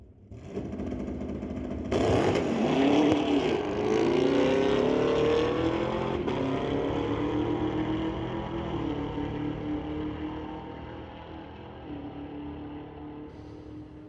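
A Camaro and a BMW launch side by side in a street-legal drag race, engines revving loudly from the start and roaring steadily as they pull away, the combined engine noise slowly fading.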